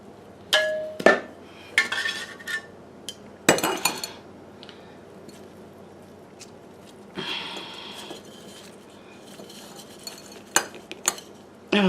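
Potting soil is stirred and scraped in a pot while a begonia is repotted, producing a string of close, gritty scrapes and hard clinks with quieter gaps.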